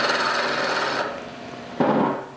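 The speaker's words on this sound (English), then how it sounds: "So I'm going to use this skew chisel as a scraper to just get this diameter down." A skew chisel is used as a scraper on a turned piece, making a steady, close rasping scrape for about a second, then a short second scrape after a pause.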